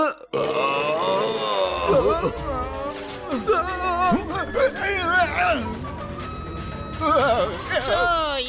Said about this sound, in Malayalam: എന്തൊരു വലിയ ഏമ്പക്കവാ ചേട്ടൻ ചേട്ടൻ വിട്ടത്